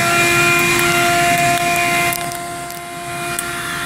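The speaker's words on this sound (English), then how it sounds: "I can vacuum under the seats." A vacuum cleaner runs steadily while cleaning under the seats of a car during mobile auto detailing, giving a loud, continuous motor whine with a slight drop in pitch and level partway through.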